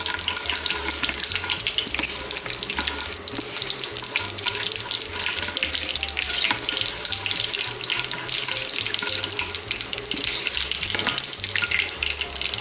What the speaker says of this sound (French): On va les laisser frire tranquillement, vous allez voir, on va les entendre crépiter.